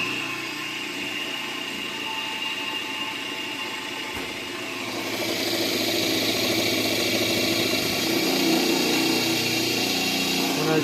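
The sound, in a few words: experimental magnet rotor motor running, lugging under load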